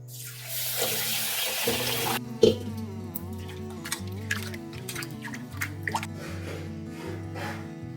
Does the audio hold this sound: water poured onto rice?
yes